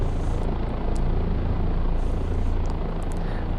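A helicopter in the DCS flight simulator, flying a straight-in autorotation after the power is rolled off, drones with a loud, steady rotor and turbine roar, with a few faint higher ticks over it.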